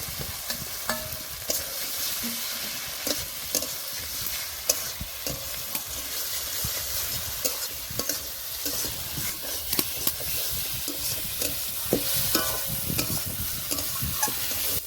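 Fried potatoes go into a pan for a Bengali rui fish curry and are stirred, a continuous sizzle with repeated scraping clicks of the spoon against the pan, close and moderately loud.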